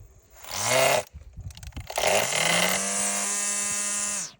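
An INGCO CSTLI20018 40V cordless battery string trimmer whirs up in a short burst, stops, then spins up again to a steady high-pitched whine, loud and close.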